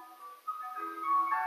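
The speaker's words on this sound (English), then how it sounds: "Oh, there's a real ice cream truck!" An ice cream truck passes outside playing its tinkling melodic chime, heard clearly on its own with no talking.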